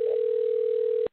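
A telephone line tone plays while a call waits to be picked up, a single steady, loud tone held for about a second before cutting off abruptly into silence.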